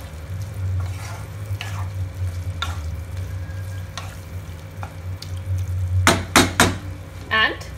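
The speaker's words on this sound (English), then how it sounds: "Now add the marinated prawns." Marinated prawns fry in a pan with a low continuous sizzle, then several close, loud scrapes and clanks of a spoon stirring against the metal toward the end, with no talk.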